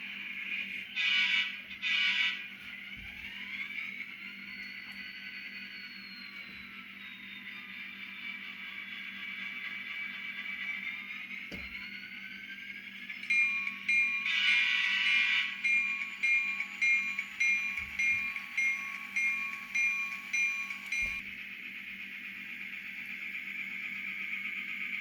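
A Kato N scale SD40-2 model locomotive fitted with an ESU LokSound decoder plays its synthesized diesel engine hum, with a sustained horn tone that bends in pitch and a burst of rapid bell-like clanging, fairly faint and small-speaker in character.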